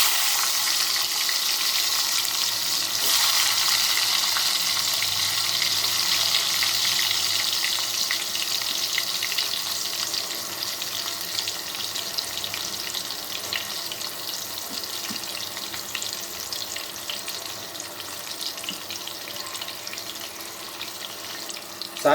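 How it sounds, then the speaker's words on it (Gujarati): Tomatoes and green garlic for a Kathiyawadi lasaniya bataka dish sizzle in hot oil, producing a steady, fairly quiet hiss and crackle that continues throughout and slowly softens. "જેવું તેલ થોડુંક ગરમ થાય અને તરતર તરતર અવાજ આવે એટલે આપણે એમાં ટમેટાનો વઘાર કરશું"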